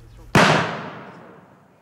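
A firecracker set off outdoors to scare birds away goes off in one sudden, loud bang, then its echo rolls away and slowly fades over more than a second, with no talking.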